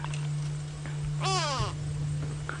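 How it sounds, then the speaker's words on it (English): A go-away bird gives one loud, drawn-out nasal call on a safari drive, rising out of steady vehicle hum and faint background noise. "there's another go-away bird laughing at you."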